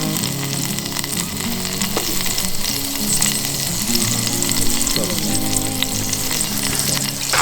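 Sesame oil sizzles and fries steadily in an iron pan over a campfire while making bibimbap, a continuous close crackling hiss with no talk.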